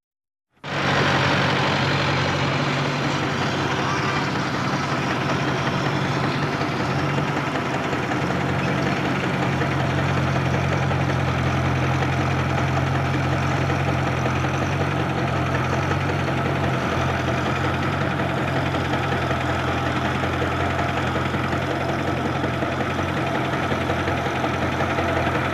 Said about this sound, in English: Every make of tractor makes its own distinctive sound